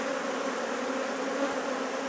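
Honey bees buzz on a hive frame full of brood about to hatch, a dense, even drone of many insects held close and unbroken.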